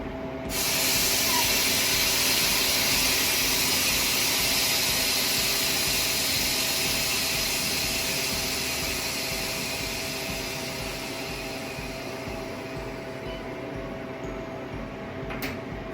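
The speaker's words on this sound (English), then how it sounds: "I'm going to go ahead and open the drain valve to vent to see if this is done" A Harvest Right freeze dryer hisses loudly and continuously as air rushes in through its opened drain valve after a bread run, close up and slowly easing in intensity.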